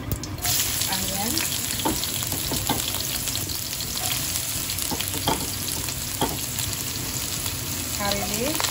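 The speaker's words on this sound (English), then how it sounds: "I have put some oil in a wok, and also I have added some mustard seed" Onion and mustard seeds frying in oil in a wok for kothu roti, a loud, dense, steady sizzle with scattered sharp pops and clicks of stirring, close up and without speech.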